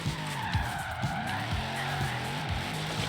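A Liberty Walk Hellcat slides through a drift in Forza Horizon 3, its tires squealing in long wavering tones over a steady engine roar that runs unbroken for about three seconds.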